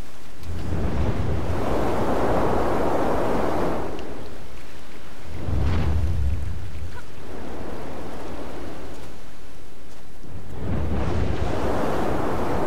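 Blizzard wind in the video game Never Alone howls in three long surging gusts, each swelling to a loud roar and fading away before the next rises.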